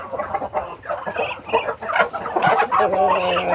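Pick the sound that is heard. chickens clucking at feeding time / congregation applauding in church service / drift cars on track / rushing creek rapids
chickens clucking at feeding time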